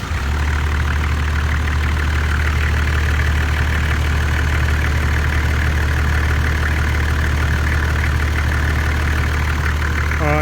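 A Toyota Landcruiser 105 Series engine, just fitted with a new viscous fan clutch, runs at a steady idle close by for the whole stretch, its low droning hum and faint tapping holding even throughout with no voices over it.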